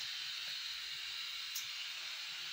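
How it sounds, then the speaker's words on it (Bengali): Tea coming to a boil in a pot on a gas stove, a steady close hiss of heating liquid and burner, even and unbroken throughout. "তো ভালো করে দেখুন চাটা ফুটছে"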